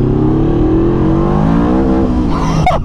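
A modified 200 hp Yamaha V-Max motorcycle revs hard under acceleration with its rear wheel spinning, a loud, rising engine roar held close throughout with a scuffing burst near the end.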